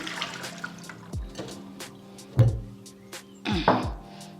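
Soaking water is tipped out of a new stone grinding mortar, giving a few separate splashy pours and knocks of stone against a hard floor, close and fairly quiet with gaps between them.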